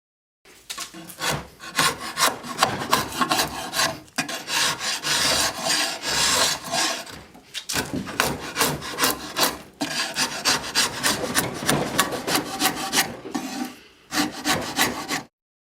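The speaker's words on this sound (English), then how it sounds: "carefully rework that old edge with a file" An old edge on a scrapyard-find tool is reworked with a hand file: loud, continuous rasping strokes in a steady back-and-forth rhythm, broken by a few short pauses, with no voices.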